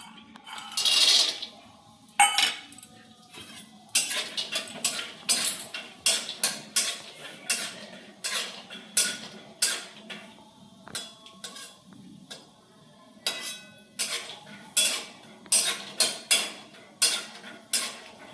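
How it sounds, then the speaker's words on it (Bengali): Peanuts frying in a little oil in a pan, with sharp metallic clinks and rattles as they are stirred, coming in quick irregular bursts with short pauses; close and fairly quiet, with no talk. "তো এখানে বাদামগুলো ভাজা হচ্ছে,"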